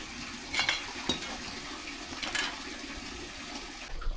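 Besan flour batter mixed with a little water is stirred in a bowl, giving soft wet squelches and a few sharper scrapes and taps against the vessel, close and fairly quiet with no talking.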